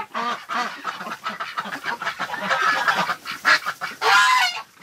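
A big goose wintering in bitter cold honks loudly and repeatedly up close while being picked up, giving a rapid, harsh run of calls with no pauses.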